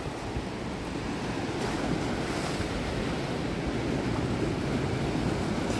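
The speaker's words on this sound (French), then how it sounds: "je vous montre la mer. On est le matin. Il y a des vagues ce matin." Ocean waves washing onto a shore on a morning in Indonesia, a steady, dense roar of surf mixed with wind buffeting the microphone, continuous and fairly close, with no voices.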